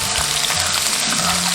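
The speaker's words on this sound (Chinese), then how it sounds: "再用葱姜蒜、干辣椒炒香。" Scallion, ginger, garlic and dried chili stir-fry in hot oil in a wok, a loud, steady sizzle and crackle with faint stirring scrapes, close up and with no talk.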